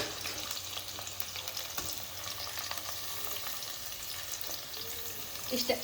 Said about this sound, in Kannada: ಒಂಚೂರಲ್ಲ, ಸ್ವಲ್ಪ ಜಾಸ್ತಿನೇ, ಯಾಕಂದರೆ ಆನಿಯನ್ ಫ್ರೈ ಆಗಬೇಕು. ಸೊ ಈಗ ಆನಿಯನ್ ಹಾಕೋತಾ ಇದ್ದೀನಿ.